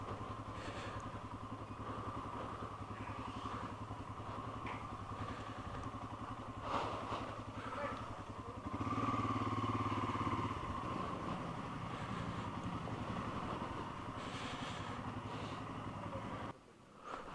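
A motorcycle idles steadily at a fuel station while its tank is filled to full on a road trip from Kolkata to Daringbadi, with a brief louder engine surge midway and a low mechanical hum throughout.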